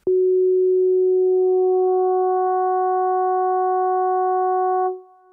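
A steady FM synthesizer tone holds one pitch while brighter upper harmonics from an added modulator gradually fade in, then it cuts off after about five seconds.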